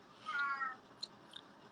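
A house cat in a podcast room gives one clear, fairly close meow, followed by a few faint small sounds in a quiet background.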